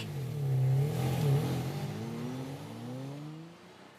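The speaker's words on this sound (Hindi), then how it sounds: "ये तिवारी जी इतनी रात को इतनी तेज गाड़ी चलाकर कहाँ जा रहे?" A car driving fast at night, a loud engine drone that swells and revs up, then sweeps upward in pitch and fades as it pulls away, heard alone.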